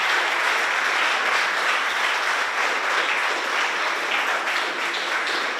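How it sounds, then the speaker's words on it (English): At a school robotics challenge event, the audience applauds the teachers, a steady, even wash of clapping that sounds fairly distant and soft, with no speech on top. "let's give a round of applause to our teachers as well"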